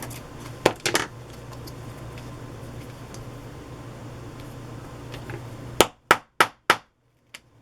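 A stamp or metal tool is pounded while making craft tags: a few scattered sharp knocks early, a quiet stretch, then a rapid run of four or five hard, ringing strikes close by.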